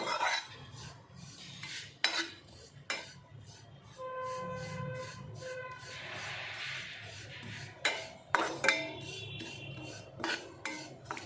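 Poppy seeds roasted with dry coconut in a pan for gasagase payasa, with repeated metal spoon scrapes and clinks against the pan in uneven bursts over a low background hum.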